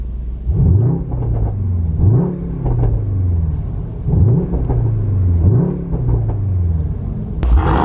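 A Mercedes-AMG GT63 engine revs loudly and close by in four repeated bursts, each rising and settling in a steady rhythm over a deep rumble, with a sharp pop near the end.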